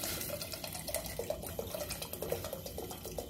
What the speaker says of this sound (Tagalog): Tapos lagyan natin siya ng chicken broth.